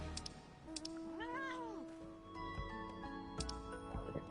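A cat meows in Final Fantasy XIV, one clear rising-and-falling meow near the middle followed by softer meowing tones, over game music and faint ticking sounds.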